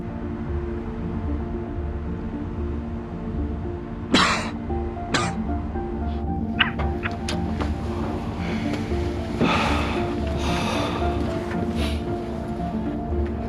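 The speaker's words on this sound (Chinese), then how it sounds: "如果能听到，你咳嗽一声" A few sharp coughs, two close together then more scattered, over a steady low background hum.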